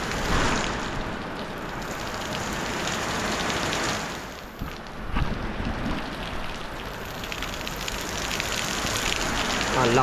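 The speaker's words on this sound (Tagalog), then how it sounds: "Yan, lakas ang ulan." Heavy rain pours outside in a dense, steady downpour, loud and continuous hiss with pattering drops throughout, briefly dipping midway; no talk is heard.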